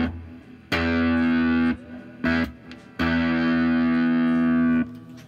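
Sustained electric guitar chords rung out through an amplifier with slight reverb and no other effects, three strums with gaps, the last held for about two seconds.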